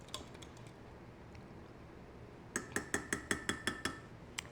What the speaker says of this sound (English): I'm just going to add it to my 1 cup of milk. Kind of mix that together just a little bit.